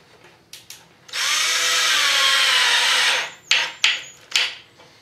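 Power drill whirring steadily for about two seconds as it bores pilot holes or drives screws into wooden boards of a homemade drying rack, followed by several short trigger bursts, loud and close with no talking.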